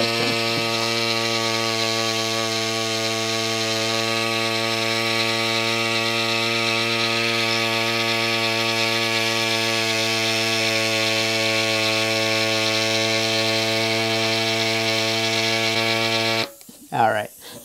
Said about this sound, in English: let the pump cool down and then add more air